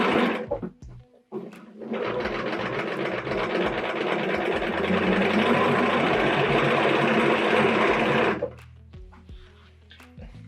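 Domestic sewing machine stitching a quilt in steady continuous runs of about six seconds, with a sustained whirring hum up close, brief starts and stops around it for pivoting, and soft handling noises after it halts.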